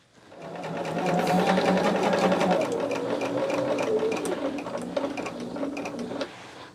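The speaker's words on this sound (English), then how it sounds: "we'll be right back to sew this together" A sewing machine stitches quilt rows together for a mosaic quilt project, running steadily for about six seconds close to the mic, with a fast, even mechanical hum and needle rhythm and no talking.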